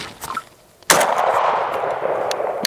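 A Saiga 12 shotgun loaded with buckshot fires one sharp, loud blast outdoors at a range, followed by a ringing decay after a quiet start.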